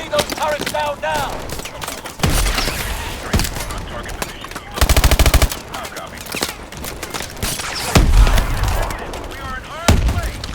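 Machine gunfire in Call of Duty: Advanced Warfare, heavy automatic bursts and rapid rattling volleys throughout a chaotic battle scene, mixed with booms and shouted voices over the combat.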